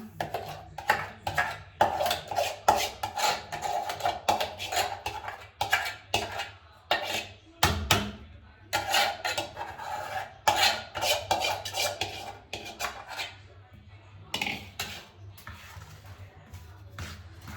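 Roti flour dough mixed in a metal pot, with steady scraping and stirring clatter of a utensil against the pot, continuous and fairly close with brief pauses.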